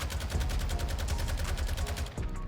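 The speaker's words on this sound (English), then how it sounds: "Now, you can switch these guns to full auto mode" Full-auto battle rifle fire in Call of Duty MW2, a loud, rapid, steady burst of shots that stops abruptly near the end.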